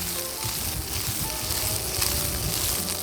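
Meatballs fry in an oiled pan for an Italian grandma-style recipe, a steady loud sizzle with soft rolling and shuffling as the pan is gently tossed, no voices over it.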